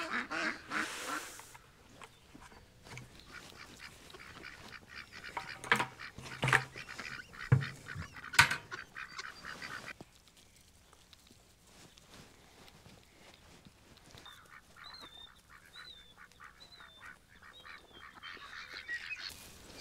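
Farmyard ducks honk and quack in scattered, moderately near calls during livestock chores, with some thumps and handling noise early on and quieter calls later.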